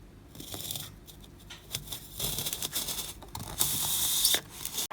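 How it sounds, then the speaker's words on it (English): A sharp knife slices through a foam ball to cut it in half, making a close, scratchy, tearing sound in uneven bursts that builds to a longer steady stretch near the end. "I'm just using a sharp knife"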